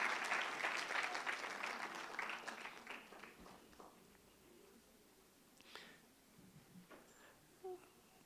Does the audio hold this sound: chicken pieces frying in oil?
no